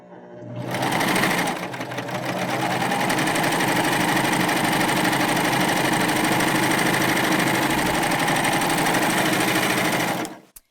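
A Baby Lock Euphoria cover stitch machine runs steadily for about nine seconds, sewing a narrow one-inch hem in very lightweight fabric with a loud, close, continuous motor whir and rapid needle chatter.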